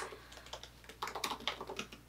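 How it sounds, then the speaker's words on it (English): Steady typing on a computer keyboard while writing a blog post: quick, irregular key clicks in close succession, near and fairly quiet, with no voices. "I'm just going to start typing away for my first blog post."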